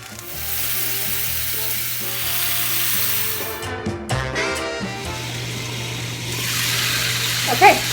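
Salsa ingredients frying in hot oil in a pan, a close, continuous sizzle with a few stirring scrapes partway through.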